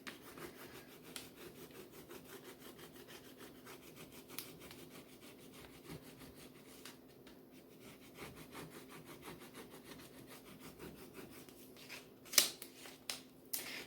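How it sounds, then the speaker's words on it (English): A small stick rubs a transfer through a plastic backing sheet onto a book cover, making faint, steady, rhythmic scraping strokes close by, with a few sharper scratches near the end. "I'm going to rub this on over the plastic with this little stick."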